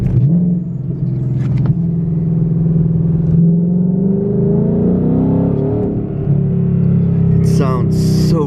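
Ford Mustang GT with exhaust in track mode and Sport Plus, revving and accelerating with a quick downshift; a loud, steady engine roar climbs in pitch, close and continuous throughout.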